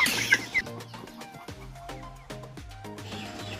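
Three-month-old Black Australorp chickens of the Italian line, a group of ten or so, cluck in soft repeated bursts close by, with a couple of sharper calls early on.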